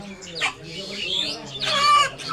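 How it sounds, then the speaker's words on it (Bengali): Chickens at a poultry farm cluck and squawk in short bursts through most of the clip, with a busy background of farmyard noise. "দেখতে পাচ্ছেন মুরগি"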